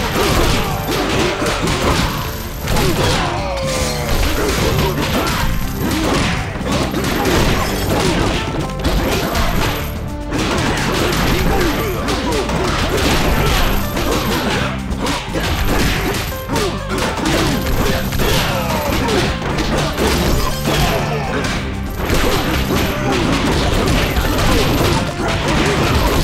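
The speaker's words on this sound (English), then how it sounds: "These guys are fighting directly in your ears." Chaotic brawl sounds from Super Mario Bros. Wonder, with dense crashes, whacks and thuds going on loudly and continuously, packed tightly together over a busy game soundtrack for the whole stretch.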